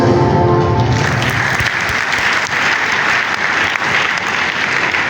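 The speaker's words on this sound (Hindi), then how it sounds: "जोरदार तालियां" Loud, sustained applause from a large crowd, dense and even throughout, close and filling the whole clip with no voices above it.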